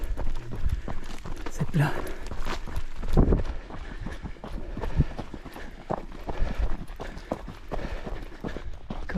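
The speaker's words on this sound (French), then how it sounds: "On recommence à courir." A trail runner's footsteps pound steadily over ground during a 100 km mountain ultramarathon in Sardinia, close and rhythmic, with someone talking over them.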